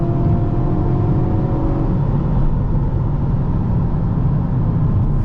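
2023 Hyundai Kona N accelerating in N Grin Shift mode, a steady, loud engine drone with rising tonal whine that holds throughout, no voices.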